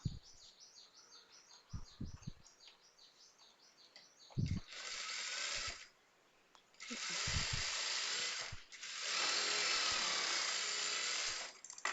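Sewing machine stitching a blouse seam, running in a few whirring bursts of a couple of seconds each, close, with quieter handling clicks and a faint chirping background between the runs.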